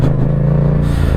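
A Yamaha MT-07 motorcycle with a Yoshimura exhaust holds a loud, steady engine roar while being revved through a wheelie, with a constant low rumble and no break across the short burst.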